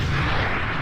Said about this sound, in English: Rocket's firing at you.